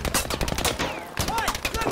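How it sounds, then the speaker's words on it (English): Machine gun fire in Battlefield 5, rapid loud bursts of automatic shots in quick succession, close and harsh, filling the whole moment with no talk. "Bloody big machine gun! I'm taking shots."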